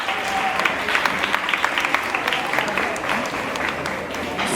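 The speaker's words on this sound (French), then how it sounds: "On va les applaudir très fort." Audience applause at a children's mental-arithmetic contest in Côte d'Ivoire, honouring visiting mathematicians: dense, steady clapping from a crowd that holds evenly for several seconds with no lull.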